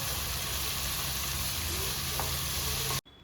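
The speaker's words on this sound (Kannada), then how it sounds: "1 ಕಪ್ಪಷ್ಟು ತುರಿದಿರೋ ಕ್ಯಾರೆಟ್ನ ಹಾಕ್ಕೋತಾ ಇದ್ದೀವಿ. ಹಾಕ್ಕೊಂಡು ಚೆನ್ನಾಗಿ ಇದನ್ನು ಫ್ರೈ ಮಾಡ್ಕೊಳ್ಳಿ." Grated carrot and sweet corn frying in a pan for masala poha, giving a steady, close sizzle that stops abruptly at the end.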